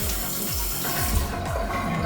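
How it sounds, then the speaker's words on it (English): Warm water runs steadily from a tap as a dermaroller is rinsed beneath it, a close, continuous splashing stream over a sink with no talk. "rinse this out with warm water."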